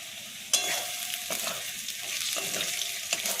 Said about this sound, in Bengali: আদাটাকে একটু ভেজে নিই।